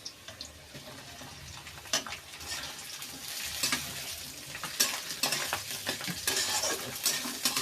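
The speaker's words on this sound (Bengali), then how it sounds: "এবারে দিয়ে দিচ্ছি আমরা এতে ক্যাপসিকাম" Capsicum frying in hot oil in a pan while being stirred, a constant crackling sizzle with irregular scrapes and utensil clicks that grow busier toward the end, close and fairly quiet, no speech.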